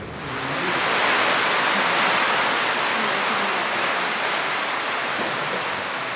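Underground river in a Slovenian cave, a steady loud rushing roar of flowing water, broad and unbroken for several seconds with no voices.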